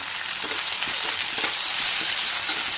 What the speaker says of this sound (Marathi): आणि तेलामध्ये छान अशी भेंडी परतून घ्यायचं.